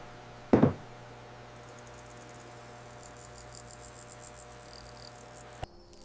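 A faint, high-pitched cricket chirring runs steadily in a mealworm enclosure after a sharp knock near the start, with quiet background hum throughout.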